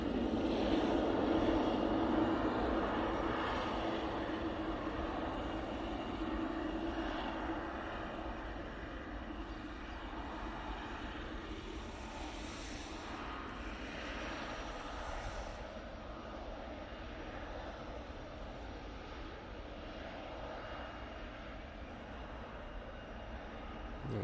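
Aircraft engines rumble and whine at Manchester Airport, a broad, steady roar that starts loud and slowly eases, heard from a distance with no talking.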